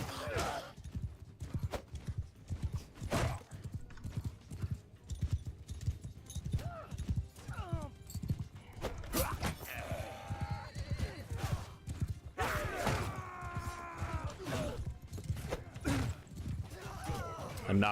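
Horse hooves drum and a horse whinnies repeatedly during a chaotic medieval battle in the video game Bannerlord, loud and steady throughout, with voices talking over it.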